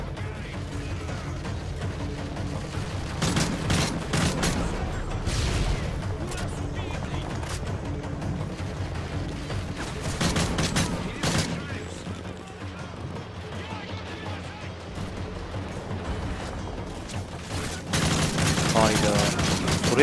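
Sustained bursts of automatic gunfire and scattered single shots from Call of Duty Modern Warfare 3 gameplay, loud and continuous, with someone talking excitedly over the shooting throughout.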